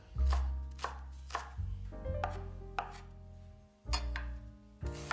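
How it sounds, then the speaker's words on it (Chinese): A knife chops green onion finely on a cutting board, giving a run of sharp, close, irregular strikes with short pauses between bursts and no talking. "再把葱也切成末"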